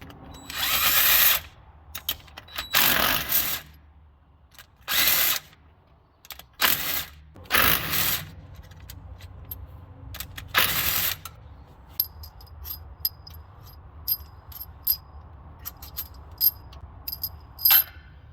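Tools work loose the head bolts on a Kubota RTV900 utility vehicle, giving bursts of loud buzzing and whirring separated by pauses, followed by light metallic clicks and clinks of bolts and sockets.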